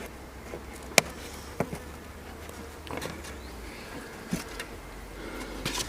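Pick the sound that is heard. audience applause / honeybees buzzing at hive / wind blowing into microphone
honeybees buzzing at hive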